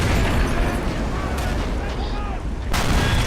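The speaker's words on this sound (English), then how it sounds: "And those mortars are still up. Those are mortars." Mortar fire in the World War II strategy game Men of War Assault Squad 2: two heavy booming impacts, spaced apart, over a steady rumbling battlefield bed with scattered whistles and speech-like chatter beneath.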